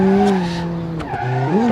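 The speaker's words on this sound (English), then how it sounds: "Oh, a bit of oversteer, it's alright, just drift through." Tires squeal loudly as a car drifts through a corner in the BeamNG.Drive rallycross driving game. The tone is a sustained screech that wavers and bends over the engine note.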